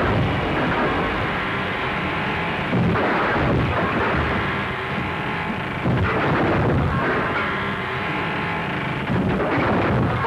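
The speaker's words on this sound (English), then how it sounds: "Firing at him from the window." Loud, dense gunfire and heavy booming blasts in a 1935 film scene, with shots fired from a window, rolling on continuously at close range in a harsh, crackling wash with no clear gaps.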